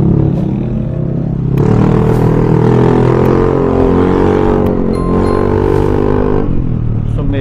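A deep, heavy motorcycle rumble through an aftermarket exhaust pipe runs steadily throughout, swelling slightly partway through, loud and close with no talking.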